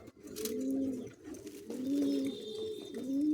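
Pigeons coo inside a pigeon coop in three rounded, throaty phrases, each swelling and fading, fairly close and steady against a faint background hiss.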